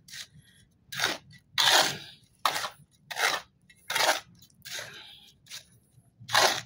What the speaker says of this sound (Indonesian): Saya duduk, lalu saya campur pakai sendok ya.